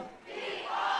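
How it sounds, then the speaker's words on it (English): A fine crowd at Marciano Stadium for a Brockton High School football game against Catholic Memorial, a broad, continuous roar that dips briefly and then swells louder toward the end. "So a fine crowd here at Marciano Stadium"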